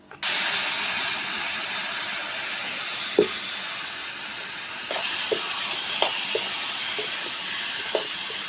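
Tapioca tossed into a pan with chilli and turmeric powder gives a broad, steady hiss after a sudden onset, with occasional soft knocks of stirring over the continuous frying noise, close and fairly loud.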